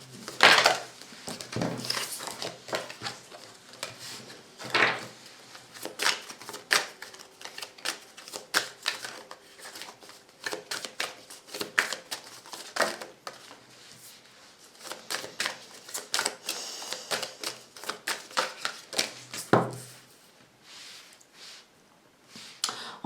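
Tarot cards being shuffled and drawn for a love reading, a long run of dense, crisp riffling and slapping card sounds with brief pauses, close and fairly loud, with almost no talk.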